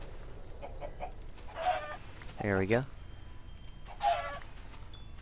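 Clucking from a chicken in the Minecraft video game: a few short, close clucks in separate bursts, with someone talking briefly between them.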